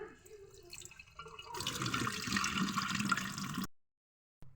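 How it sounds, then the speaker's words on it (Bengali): Food being washed and rinsed in water in a kitchen for roughly the middle three seconds, with splashing and pouring that is close and fairly loud. It follows a brief quieter stretch and ends abruptly in silence. "10 থেকে 15 বার ধুয়ে নিয়ে দেখাচ্ছি।"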